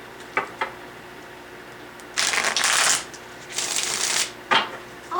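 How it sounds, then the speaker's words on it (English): Tarot cards are shuffled close by: a few soft taps, then two riffling bursts, followed by a couple of sharp clicks as the deck is squared. "One more shuffle."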